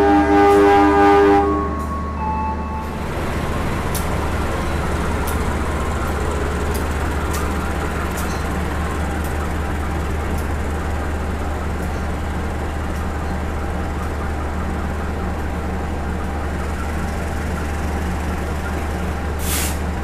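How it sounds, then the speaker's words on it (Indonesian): The Joglo Semarkerto passenger train departs a station, a loud horn blast at the start giving way to a steady rumble of rolling stock with hissing air brakes and faint metallic clicks. "kereta api Joglo Semarkerto sudah diberangkatkan"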